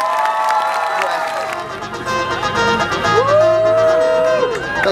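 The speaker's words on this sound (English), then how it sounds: "A big round of applause for Tracy!" An audience at a travelling variety show claps and cheers loudly, with whoops and shouts rising over sustained applause from a close crowd.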